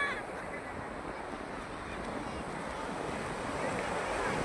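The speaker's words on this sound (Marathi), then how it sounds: "हा स्वच्छ सुंदर निर्मळ समुद्र गुहागरचा" Sea waves wash steadily onto the shore at Guhagar beach in a broad, soft hiss, with some wind noise and no clear voices.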